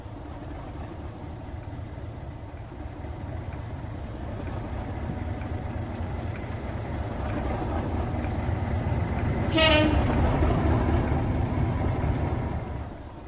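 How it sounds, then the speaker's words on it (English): Locomotive 37428 Isle of Lewis, a privately owned diesel, arrives at Dovey Junction with a deep engine rumble that swells as it draws closer, and a brief high tone near the end. "Arriving into Dovey Junction is another privately owned tractor, this time 37428 Isle of Lewis"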